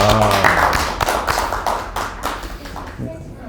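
A small group claps in an interview setting, a brief burst of distinct, close hand claps and taps that thins out and fades toward the end, with voices talking over it.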